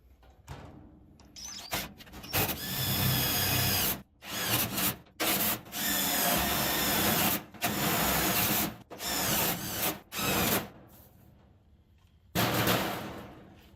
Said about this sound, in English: make sure you don't put your hand behind where you're drilling